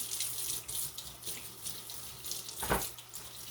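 Tap water runs into a sink to rinse out a soda can, a steady close splashing with a brief louder gush near the end.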